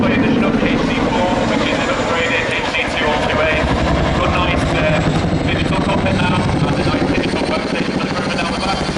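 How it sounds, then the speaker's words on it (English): A Chinook tandem-rotor helicopter performs at a Wings & Wheels air display, giving a continuous loud thudding rotor roar with steady engine noise under it and no break. "Chinook display team."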